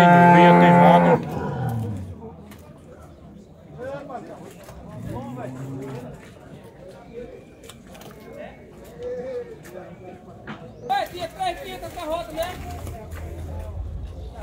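Cattle low repeatedly at a livestock fair in Canafístula de Frei Damião, Alagoas, with moos rising over a busy outdoor crowd and people talking throughout.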